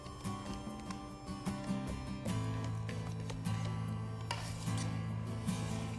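A utensil scrapes and clinks rhythmically against a bowl while blueberry pancake batter with melted butter and nutmeg is mixed, quiet and close, in repeated strokes with no talking.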